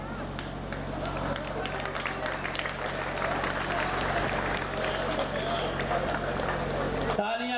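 Audience at a Hindi comedy poetry recital clapping and murmuring throughout, steady applause with scattered cheers and crowd chatter, ending with a brief thump.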